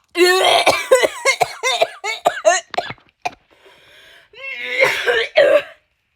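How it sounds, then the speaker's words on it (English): A person coughs and hacks repeatedly up close, in harsh rapid bursts, pauses briefly, then coughs a few more times. "We're used to you coughing and hacking."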